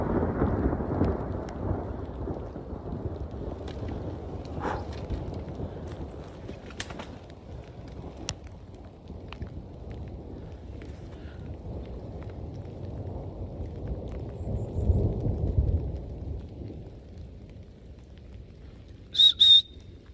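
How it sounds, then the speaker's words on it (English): A thunderstorm at a woodland campsite, with low rolling thunder swelling and fading under a steady wash of rain, a brief sharp chirp near the end, no talk. "That was a loud crash of thunder that rolled across the sky there."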